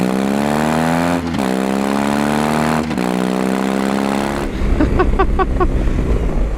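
A BMW R18 Transcontinental motorcycle engine revs with a deep, loud tone that rises and falls through several pulls. It ends in a rougher, lower rumble with quick pops, heard close with no voices.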